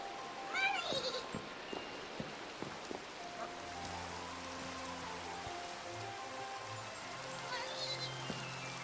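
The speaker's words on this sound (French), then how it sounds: "J'en ai marre de l'orage." Steady rain patters throughout a Minecraft thunderstorm, joined by a brief sheep bleat near the start and game tones and chimes later, all fairly quiet.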